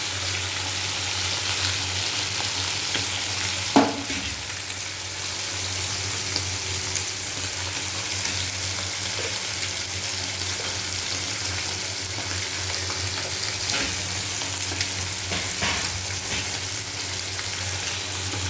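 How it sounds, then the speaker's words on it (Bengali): Fish heads fry with onion in hot oil, a steady close sizzle and crackle throughout, with a few brief clatters of utensil or stirring, and no voices. "মাছের মাথাগুলোকে ভাজা করবো পেঁয়াজ দিয়ে, মুচমোচা করে ভাজা করবো"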